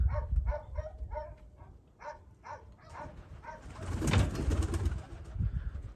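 Pigeons coo nearby in a quick rhythmic series of soft throaty calls, followed by fluttering and shuffling noise with a faint bark.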